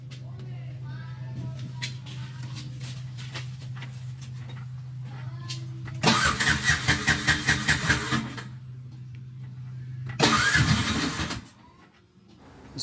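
A fuel-injected Bajaj RE auto-rickshaw that will not start is cranked twice, each long starter whirr churning rhythmically and then stopping without catching, over a steady low hum, with people talking in between.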